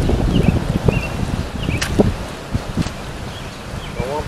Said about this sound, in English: And it is pretty windy out there.